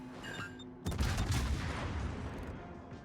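Naval guns boom in a heavy, rolling volley from a Hindenburg tier 10 cruiser in World of Warships, a loud burst of overlapping blasts that decays into a long rumbling wash behind faint game tones.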